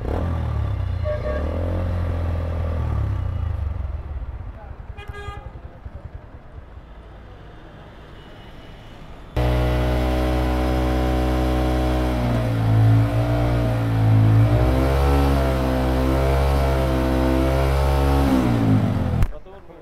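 Bajaj Pulsar motorcycle with a gas kit, its engine idling under talk, then revving loud and sustained with a jingling, metallic rattle riding over the engine note, close to the listener.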